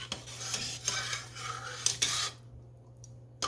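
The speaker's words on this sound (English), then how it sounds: "And I'm going to just kind of stir this up and get this stuff off the sides." A spoon scrapes and clinks around the sides of a cooking pot of corned beef, with irregular light taps and rubbing strokes over a low steady hum, then a near-silent pause before one last clink.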